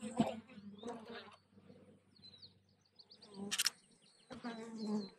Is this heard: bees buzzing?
yes